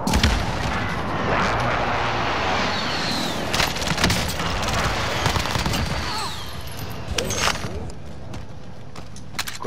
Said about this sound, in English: I get hit with a fucking precision strike.